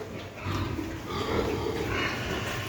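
Pigs grunt and snuffle while feeding, a busy, continuous mix of low grunts and chewing noises close by.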